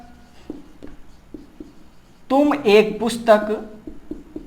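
A teacher writes an example sentence, giving soft, spaced taps and strokes, then talks over the writing partway through.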